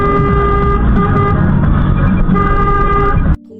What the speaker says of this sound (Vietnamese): chúng ta cần bấm còi để báo hiệu.